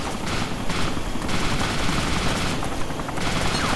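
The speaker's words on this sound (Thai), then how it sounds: "ยิงไปเลยยิงไปเลยยิงให้มันพังไปก่อน" Sustained rapid gunfire from the video game DayZ Epoch, loud and dense with overlapping automatic bursts across the whole stretch, no voices present.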